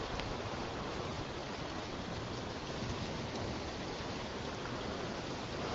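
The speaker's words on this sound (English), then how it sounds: "so the rain's kind of like going sideways a little bit" Steady, dense rain from a thunderstorm in the Greater New Orleans area pours continuously, a heavy even hiss with no letup and no voices.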